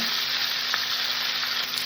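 Khoira fish frying lightly in hot oil, a steady, even sizzle holding for the whole stretch with no voices.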